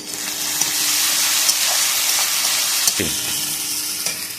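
Mutton pieces fry and are stirred in a pan with a little sugar, giving a steady loud sizzle throughout, with occasional scraping clinks of the spoon against the pan.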